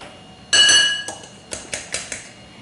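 Eggs being mixed in a bowl for an Italian frittata: a bright clinking strike followed by several lighter utensil taps against the bowl, close and clear, with no talking.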